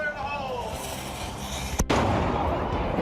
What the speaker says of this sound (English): It was a cool history lesson seeing the cannon go off.